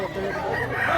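A big Cebu rooster, a three-year-old bird, gives a short close crow that rises toward its end, with farmyard clucking and background chatter around it.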